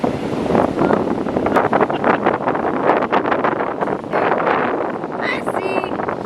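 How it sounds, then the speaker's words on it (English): Strong wind at Indialantic Beach, Florida, roaring and buffeting a nearby microphone in loud continuous gusts, with surf faintly underneath and a brief higher whine near the end. "It's too windy."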